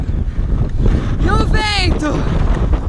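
Strong wind buffets the microphone while roller skating on an outdoor track, a loud continuous rumble with gusts throughout, and a voice speaks over it.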